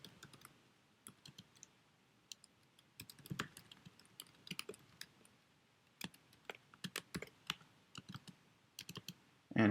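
Code being typed on a computer keyboard: close, crisp key clicks in irregular bursts and short runs with pauses between, fairly quiet and with no voices.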